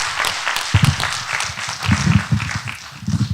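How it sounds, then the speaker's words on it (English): A modest audience at a community outreach presentation about the Clearlake hitch gives a round of applause, uneven clapping with a few loud close claps and faint murmuring underneath. "Let's give a big round of applause to Fred"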